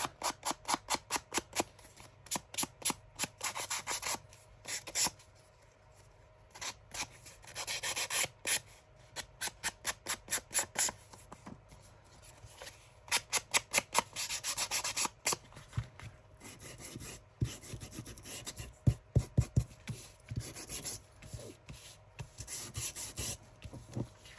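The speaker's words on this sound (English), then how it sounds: "what we could do is just scuff it up" Paper being scuffed and rubbed by hand to give it a worn vintage look while making a Christmas junk journal, heard as repeated rasping strokes in close bursts, alone with no talk.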